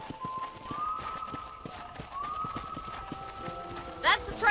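A horse galloping in the video game Red Dead Redemption, quick rhythmic clip-clop hoofbeats over a soft ambient drone with a faint whistling tone, moderately quiet, with a brief louder burst near the end.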